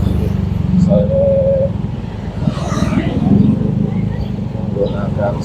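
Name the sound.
motorcycle horns and racing exhaust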